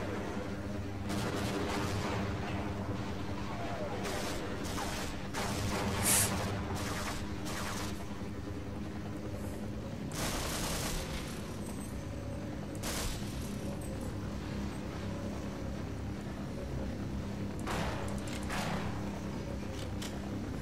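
Half-Life game gunfire crackles in repeated sharp bursts over a dense, noisy backdrop of game sound, continuing through about twenty seconds.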